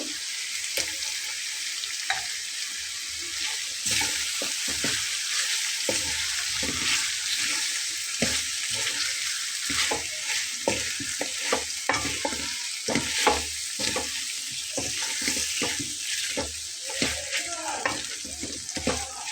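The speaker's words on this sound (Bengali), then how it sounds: "তো সেজন্য আমি শুধু আলাদাভাবে মাংসটা কষিয়ে নিচ্ছি" Beef sautéing in a pan during a long braise gives a loud, steady sizzle, with frequent rhythmic stirring scrapes and clacks of a spoon against the pan, close and without talk.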